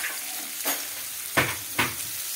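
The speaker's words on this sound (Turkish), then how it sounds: "Ve kızartıyoruz." Steady crackling sizzle of cornmeal-dredged food frying in a pan, with a few sharper bursts of stirring or spattering rising over the hiss. No voices.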